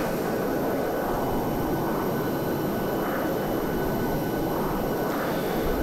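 A jet engine in a flight simulator roars steadily overhead, a broad continuous rumble with a faint whine rising and fading, heard alone without voices.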